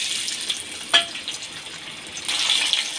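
A small chopped tomato goes into hot oil left from frying tengra fish, giving a steady bright sizzle with a sharp burst of spatter near the start and a livelier hiss toward the end.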